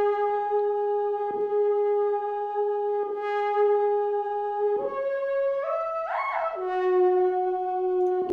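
A plain synth melody without the ShaperBox effect plays alone, with smooth sustained tones, a few soft note changes and a short rising-then-falling pitch bend near the end.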